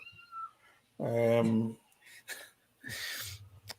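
A pet cat meows indoors in one loud, drawn-out, clear call, followed by shorter, fainter vocal sounds, with a person speaking close by.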